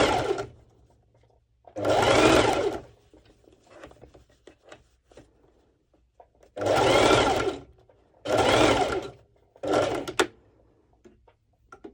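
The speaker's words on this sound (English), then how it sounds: "I'm going to do a straight stitch one more time over this band" Sewing machine running a straight stitch across the waistband of front-ruched leggings, in four separate bursts of steady whirring with quiet handling noises in the pauses between them.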